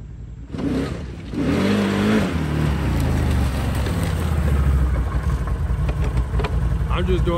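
A Can-Am Renegade XMR 1000 ATV engine revs in short pulls outdoors, a steady loud roar rising and holding with wind buffeting the microphone.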